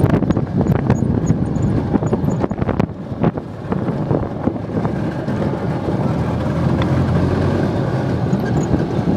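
Harley-Davidson golf cart with a troublesome carburetor being driven, its engine a rough, continuous drone under heavy wind buffeting on the microphone, strongest and choppiest at the start, then steadier as the cart picks up speed.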